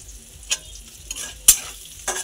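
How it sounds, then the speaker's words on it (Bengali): Food frying in a pan beside an onion curry, a soft background sizzle broken by a few sharp scraping stirs and clinks, close and without talk. "তো এটির সাথে এধারেও এটা ভাজা হয়ে গেছে মোটামুটি"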